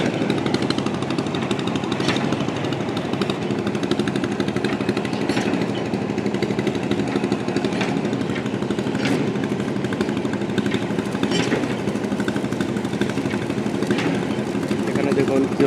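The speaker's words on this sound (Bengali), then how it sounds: "বিশাল বড় মেশিনে এখানে গর্ত করা হচ্ছে।" A large machine drills holes at a building construction site, producing a steady rapid pounding rattle with occasional sharp clanks, loud and continuous from start to finish.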